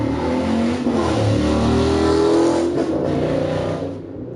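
A truck engine revs hard, a loud close roar that swells and holds, then drops off near the end, alone without talk.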